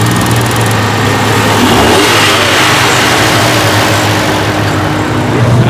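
A car engine revs at a car show, idling roughly between loud blips of throttle that rise and fall over several seconds, close by, with no talk.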